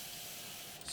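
A model-painting airbrush gives a short pump of air through its needle, a soft steady spray hiss that runs close and even for under a second before a slight rise at the end.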